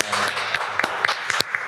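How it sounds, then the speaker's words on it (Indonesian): A small audience claps for a guest at a casual talk event, a dense patter of applause with a few sharper individual claps standing out over the crowd noise. "Terima kasih tepuk tangan untuk Tufi."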